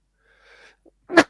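A faint wheezy intake of breath and a small catch, then one sharp, loud sneeze bursting out at close range.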